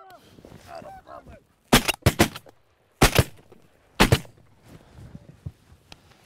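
Geese honking in a flock at the start, then several loud, sharp gunshots ring out in bursts, with honking continuing faintly between them.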